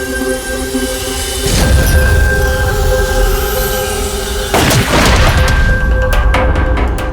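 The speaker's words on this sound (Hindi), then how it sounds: "तुम यहीं से 7-8 फीट की दूरी से इसे गोली मारो" A single gunshot fired at a target from about seven or eight feet away in a crime drama scene, a loud sharp crack with a second heavy blast following a few seconds later, set against a steady humming background.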